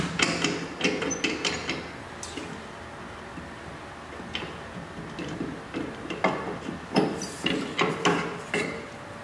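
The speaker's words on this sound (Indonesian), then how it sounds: "Kemudian kita akan membuka cawan ini seperti biasa dengan cara mengendorkan baut di kanan dan kirinya" Bolts on both sides of a metal cement mould for a Vicat apparatus test being loosened, with a run of irregular metallic clicks, ticks and small knocks, close up and without talk.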